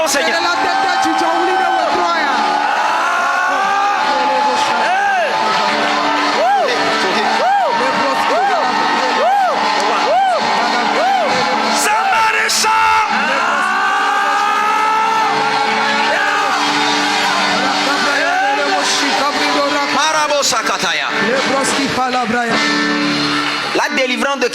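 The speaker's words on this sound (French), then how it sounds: "Est-ce que quelqu'un peut pousser des cris de joie au Seigneur?" Church congregation at a French-language service shouting for joy to the Lord, a loud sustained mass of overlapping whoops, yells and cheers that fills the room throughout, with voices rising and falling in waves.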